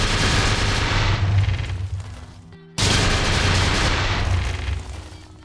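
Rapid-fire machine gun built from command blocks in Minecraft, a loud, dense continuous burst of shots that cuts out briefly near the middle, then resumes just as hard.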